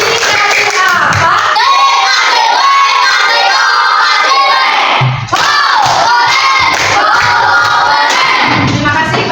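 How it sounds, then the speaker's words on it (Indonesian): A classroom of students cheering and shouting loudly with some clapping after a group presentation, a sustained noisy burst of young voices that dips briefly midway and then surges again. "Tepuk tangan."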